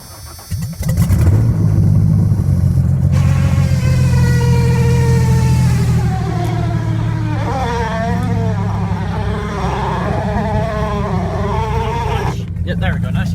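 A smoking Ford Ranger engine cranks and fires up, then runs loud and close with a steady rumble and rising, wavering revs throughout, while someone talks over it.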